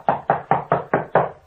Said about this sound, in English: With all that knocking, they're denting the door.